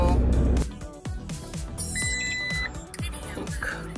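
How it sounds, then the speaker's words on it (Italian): A camper van dashboard sounds an AdBlue warning: high electronic chime tones ring out over the cabin, mixed with clattering knocks and background noise from inside the van. "Quindi doppio errore, errore motore, allarme AdBlu."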